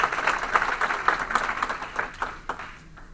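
Crowd applause at an interfaith solidarity march in Los Angeles, a scattered round of clapping from a gathered audience that thins and tapers off toward the end.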